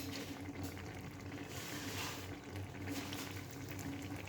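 Dahi soybean curry simmering in a pan, a steady low bubbling and sizzling that holds at a constant faint level without pauses.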